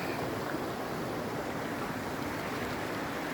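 Camp Creek flowing outdoors at a roadside camp spot, a steady broadband rush of running water that stays constant and fairly close, with no talking over it.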